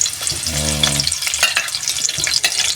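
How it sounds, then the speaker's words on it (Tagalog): Spices and ingredients hit hot oil in a pan with a loud, close sizzle, bursts of crackling and stirring scrapes continuing throughout. "it's time to fry the ingredients or mga spices"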